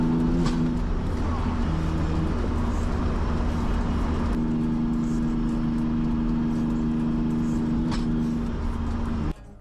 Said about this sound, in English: I'm about to insert 2 clips from me driving in Colorado